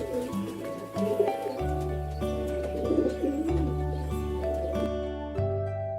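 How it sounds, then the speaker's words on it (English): A pigeon coos in soft, repeated low calls over a steady music backing, with no talking. "Pigeon."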